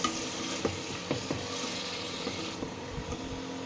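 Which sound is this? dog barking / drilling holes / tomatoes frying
tomatoes frying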